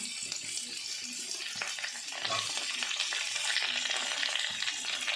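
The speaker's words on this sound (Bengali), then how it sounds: "এগুলো দিয়ে ভালোভাবে বেশ কিছুক্ষণ আমরা এটাকে নাড়াবো" Mixed vegetables, including papaya, pumpkin, carrot, drumstick stems and green chilli, fry in a pan for a vegetarian panchmisali dish, a bright sizzle broken by repeated scraping strokes of a stirring spoon, close and fairly loud with no voices.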